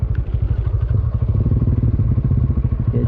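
A Rusi motorcycle engine is revved hard at high RPM, a loud, close, rapid pulsing chug with rattling exhaust that holds steady throughout, no talk over it.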